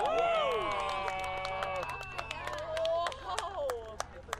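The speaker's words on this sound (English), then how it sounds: "Listen to the crowd." A crowd on a beach reacts during the April 8, 2024 total solar eclipse, with cheering, whooping voices and scattered claps, mid-distance and fairly loud.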